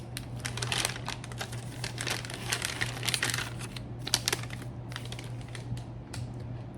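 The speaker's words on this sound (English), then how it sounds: "Slide heater and MRE to bottom of bag and fold top opposite side of the heater." Close, crisp crinkling and rustling come from an MRE flameless heater bag being folded over, in irregular bursts with a faint low hum underneath.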